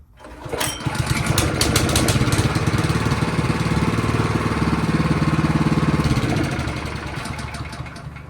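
A sod cutter's small engine is pull-started with a few quick rope yanks, catches and runs loudly at a steady, rapid chugging rhythm for several seconds, then begins to wind down toward the end.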